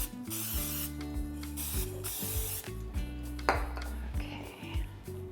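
Cooking spray hisses from an aerosol can into a cake pan lined with parchment in short bursts, with clinks and rubbing against the pan and steady tonal background noise underneath.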